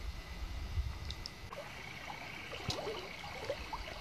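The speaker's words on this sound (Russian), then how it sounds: "послушаем шум воды" Flowing water of the Belaya River in autumn, a soft steady rushing murmur heard from nearby, with a few faint splashes and trickles and no voices.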